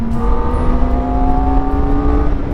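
Kawasaki Ninja ZX-4R small-displacement inline-four motorcycle engine held at high revs, a loud steady whine close up with a continuous buzzing drone.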